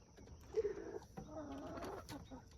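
Chickens on a farm give soft, close clucks and murmuring calls that rise in a short burst and then continue at a low, steady level.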